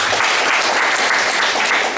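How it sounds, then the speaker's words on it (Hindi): An audience claps at a motivational talk, a dense, sustained burst of applause that stays loud and even from start to finish with no voices heard over it. "ताली बजाता हूँ"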